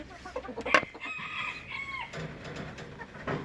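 Chickens cluck and squawk close by in a busy flock, with one loud crow-like call rising briefly above the steady clucking.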